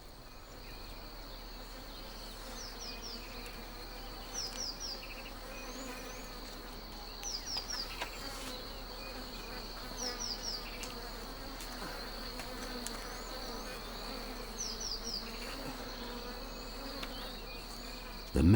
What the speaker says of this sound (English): M'zegabe and Kiloussou light torches to smoke out the bees and lessen their aggressiveness.